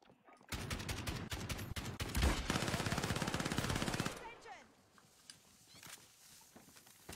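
Video game gunfire during sniping, a loud, rapid automatic burst of close shots lasting several seconds, then fainter scattered shots and a voice in the background.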